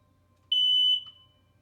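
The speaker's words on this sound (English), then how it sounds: "That was a smoke alarm for unreasonably going off." A smoke alarm gives a single short, piercing electronic beep lasting about half a second, fairly close, followed by quiet.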